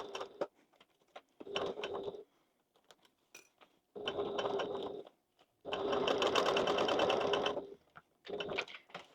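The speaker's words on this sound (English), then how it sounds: "So I like to put my machine needle down and do a few before I start taking off my clips." A sewing machine stitches along the bottom seam of a zippered bag in several separate runs of steady whirring, some short and some longer, split by quiet pauses, close up with no talk.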